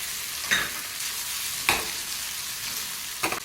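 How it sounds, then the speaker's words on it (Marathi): Paneer sizzles and fries steadily in a pan, with three or four sharp scraping stirs breaking through the hiss, close and fairly quiet. "दोन्ही साईडने पनीर व्यवस्थित फ्राय करून घेऊया"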